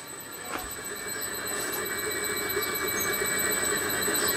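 An electric motor driven slowly by a repaired Powtran variable frequency drive emits a steady high-pitched whine and tonal hum, continuous and fairly quiet, gradually growing a little louder.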